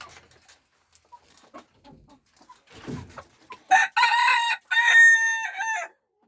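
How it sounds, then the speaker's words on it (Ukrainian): Hens sit in nests and cluck softly, then a chicken lets out a loud, drawn-out crowing call in two stretches near the end, with scattered faint rustles before it. "І у кожному гнізді тут сидять квочки."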